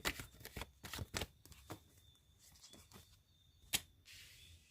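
Tarot cards being shuffled up close: quiet, quick riffles and soft slaps in uneven bursts, with no talking.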